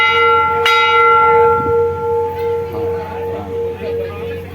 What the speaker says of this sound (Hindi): ये दिलीप सर मैनेजर साहब बचा रहे हैं घंटी